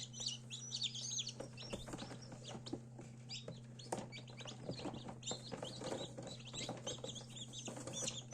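Young Bielefelder chicks chirp in quick, high peeps, many overlapping and scattered throughout, over a steady low hum, likely from an incubator or brooder; the sound is fairly faint and continuous, with no voices.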